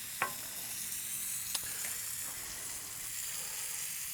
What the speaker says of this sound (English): starting to melt that bone marrow onto the grill, because that's where we're going to fry our rice